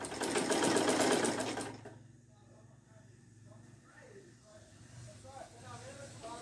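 A sewing machine stitches yellow knit fabric for cushion covers in a loud, fast, steady run for under two seconds, then stops, and someone talks afterward over a faint background hum.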